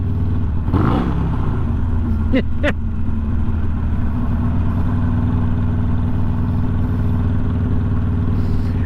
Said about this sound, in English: I'm wondering if all that downhill engine braking is what's fouling up my engine.